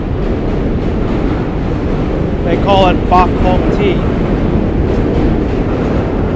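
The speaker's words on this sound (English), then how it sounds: "Just wish the train would stop coming so you could hear me." A train passing in New York City's Chinatown, a loud continuous rumble with brief squealing metallic tones in the middle, heard under someone speaking.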